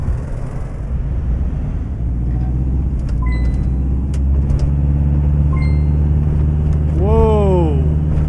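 A bush plane's engine drones steadily at full throttle on its takeoff run in the Deadstick Bush Pilot Simulator game, with a voice exclaiming sharply near the end.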